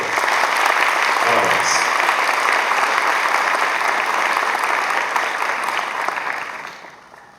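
An audience at a seminar's opening ceremony and tribute breaks into loud, sustained applause, a dense wash of clapping that fades out near the end, with a voice briefly speaking over it.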